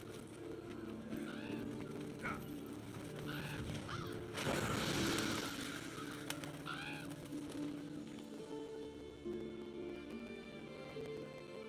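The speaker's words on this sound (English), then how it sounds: "Seems the black birds are the culprits. Revoltures. They're scavenger birds that enjoy large monsters' leftovers." Raspy, repeated caws of Revolture scavenger birds in Monster Hunter World: Iceborne, several harsh calls spaced across a layered game soundscape with a brief burst of flapping or rushing noise midway.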